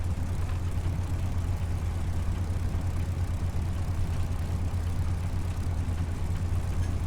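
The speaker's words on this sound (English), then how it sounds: "It's a lovely sounding engine," FlyingIrons Spitfire MkIV engine idling in Microsoft Flight Simulator, a steady low purring drone with an even throb that holds constant throughout, with no voices over it.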